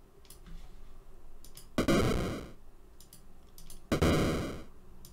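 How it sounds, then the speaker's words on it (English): Retro 8-bit gate-opening effect built in BeepBox: two bursts, each a short blip followed by a longer, noisy, bright tone that decays over about half a second, separated by faint mouse clicks. "you often hear a sound like this when you open a door or a gate."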